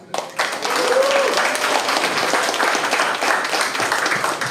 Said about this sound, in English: let's give a round of applause in spirit to Lee Zhaokun